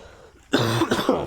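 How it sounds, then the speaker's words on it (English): A single short, close cough bursts out after a moment of near silence, harsh and breathy. "sorry for coughing into your ear"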